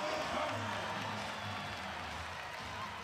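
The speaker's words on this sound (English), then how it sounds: "Well, you can hear the crowd." A volleyball arena crowd roars steadily after a kill in an Oklahoma vs Kansas State college match, a dense, loud wash of cheering and applause that holds for the whole stretch.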